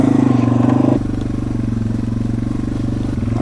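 A motorcycle rides over dirt on wooded public land near Labelle, its engine a steady, fairly close rumble that drops slightly in pitch and loudness after the first second, then drones on evenly.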